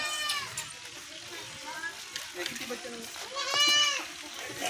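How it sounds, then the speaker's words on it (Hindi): Several goats from a herd of eleven bleat in repeated nasal calls, close and fairly loud, with the longest bleat near the end and a few shorter ones earlier over a busy outdoor background. "और ये बकरियाँ माशाल्लाह टोटल 11 बकरियाँ।"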